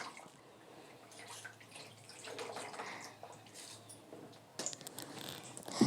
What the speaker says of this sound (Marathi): धुतलेली ज्वारी चांगली धुवून परातीमध्ये ज्वारी काढून घ्यायची